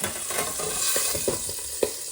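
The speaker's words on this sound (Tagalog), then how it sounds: "yung prito ko. Naku, matalsik." Hot oil sizzles steadily with sharp pops and spatters breaking through every so often, close by, with no voices.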